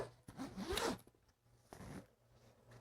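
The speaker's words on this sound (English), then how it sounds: "unzipping it" A zipper on a K&F Concept 25L camera backpack being unzipped, a close, quick ripping pull that swells and fades within about a second, followed by a softer second zip stroke.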